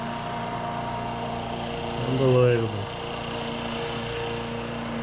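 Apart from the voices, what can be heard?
noisy lawnmowers running nearby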